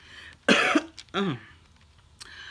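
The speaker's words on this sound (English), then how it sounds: "coughing over a cold" Two harsh, close coughs from a cold in quick succession, the second a rougher, throaty hack, followed by a faint short cough near the end.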